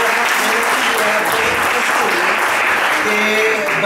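Loud, sustained applause from a church audience for a group of Sunday school children after their Bible verse readings, dense clapping throughout with some voices mixed in.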